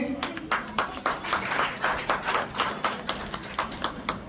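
An audience claps together in a brisk, regular rhythm, each clap sharp and distinct, moderately loud.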